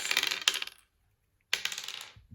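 Two bursts of five dice rattling and clattering across a table during a Warhammer 40k Crusade tabletop game, a charge roll, separated by a short silence, fairly close and alone with no talk.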